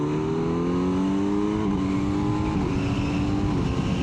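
A 4-cylinder naked motorcycle engine revs hard, its loud, close whine sweeping up and falling back, then settling into a steady, busy drone.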